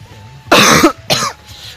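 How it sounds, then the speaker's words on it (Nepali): A person gives two harsh, close coughs about half a second apart, then a faint breathy trailing sound, outdoors on a hillside walk above Begnas Lake. "खोकी लाग्यो मलाई फेरि"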